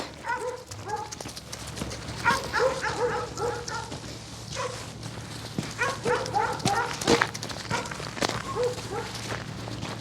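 A farm dog barks in quick repeated bursts close by, mixed with clopping hoof-like steps and footfalls on a busy outdoor farmyard, with voices speaking in the background.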